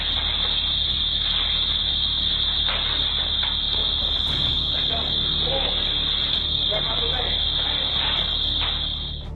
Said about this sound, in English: Despite the loud alarm